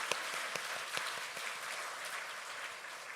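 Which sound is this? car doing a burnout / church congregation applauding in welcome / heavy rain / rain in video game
church congregation applauding in welcome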